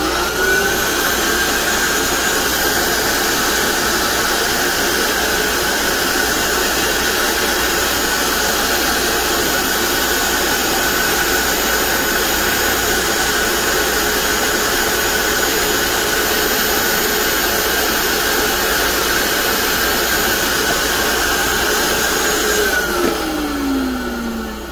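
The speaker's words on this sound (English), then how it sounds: "So I'm gonna vacuum out that reservoir." Vacuum cleaner sucking waste toner out of the reservoir of a Kyocera laser printer drum unit, a loud continuous whine and roar held steady for over twenty seconds, then winding down at the end.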